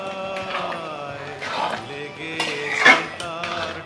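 A lid clatters onto a metal cooking pot of prawn pulao in a kitchen, with several close clinks and knocks scattered across a few seconds, without any talk.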